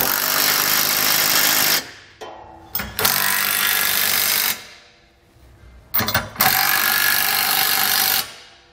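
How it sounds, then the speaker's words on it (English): A ratcheting socket wrench or power tool tightens trailer hitch bolts on a 2019 Chevrolet Impala, several loud sustained bursts of mechanical whirring with brief gaps and clicks between them, close by. "We're going to start by tightening down the smaller bolts. Then we can go back and tighten our larger bolts."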